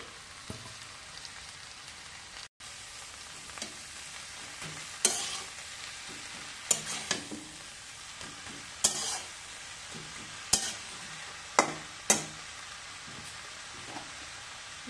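Leafy greens being stirred into a pan of frying vegetables, with a continuous soft sizzle broken by repeated scraping, clattering stirring strokes at irregular intervals.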